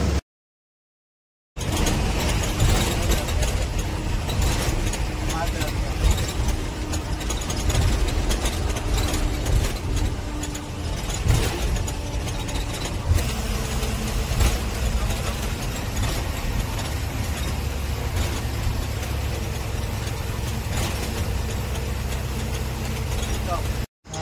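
A truck engine drones steadily as it climbs in third gear on a highway in Madhya Pradesh. The heavy low rumble stays close and continuous after a brief silent start, and someone talks over it.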